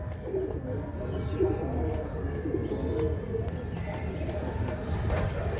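Malbai pigeons coo softly and repeatedly in a quiet indoor setting, the low throaty calls rising in short phrases over a faint background hum.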